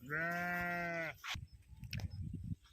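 A single sustained bleat from a sheep in a herded flock on fallow land, loud and close, followed by soft rustling and shuffling noises.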